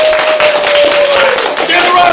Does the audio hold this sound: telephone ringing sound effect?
no